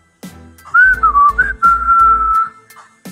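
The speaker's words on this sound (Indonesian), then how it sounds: "Pendekar 212 bersiul." A single person whistles a short, wavering tune, clear and close, with a few breaks between the notes.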